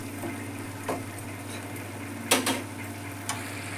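Tomatoes with water and coriander simmer in a pan for chutney. A low steady bubbling is broken by a few sharp utensil knocks from stirring, close by and fairly quiet.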